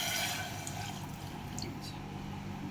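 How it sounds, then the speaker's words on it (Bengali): Water pours into a pan of spices, turmeric, cumin and coriander powder, before rice is added. There is a steady rushing gush with some faint splashes, close and fairly loud throughout. "দিয়ে যাতে মশলাটা পুড়ে না যায় আগে আমি জল দেবো"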